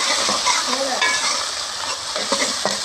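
Onions, tomatoes, capsicum and green chillies stirred together in a hot pan for an aloo egg curry, with a steady loud sizzle and scraping spoon strokes throughout, no talking.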